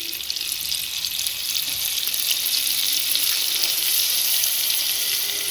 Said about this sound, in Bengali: বাটারটা দিয়ে দিলাম, একটু চেঁচে হাত দিয়ে দিচ্ছি।